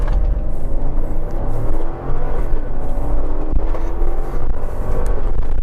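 Heavy Yukon SUV on Nitto Recon Grappler all-terrain tires accelerating from a stop, a loud steady engine roar and tire rumble that keeps up throughout, with no voices.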